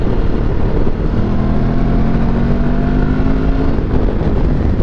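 Benelli TRK702 motorcycle engine held at high revs, a steady loud drone with rising harmonic tones and wind rush over the microphone, continuous for several seconds with no talking.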